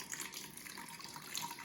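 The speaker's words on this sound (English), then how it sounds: "So we'll just pour this in this clear bottle." Blue liquid poured from a container into a clear bottle, giving a steady, close splashing gurgle that runs unbroken for under two seconds with no talking.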